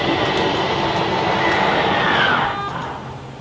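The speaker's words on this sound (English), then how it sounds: "as you can hear, the motors went ahead and synchronized when they're all the way out" RV slide-out motors on a Winnebago Micro Minnie 2100BH drone loudly and steadily with a rising mechanical whine, then wind down and fade after a few seconds.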